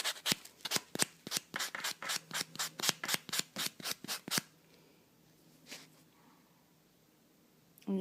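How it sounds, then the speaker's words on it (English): A false nail rubbed back and forth to strip off dried glue, giving about fifteen quick, even rasping strokes up close, then a near-silent pause with a faint brush and a last scrape at the end. "We take this nail here, and you just kind of keep rubbing it across until the glues come off"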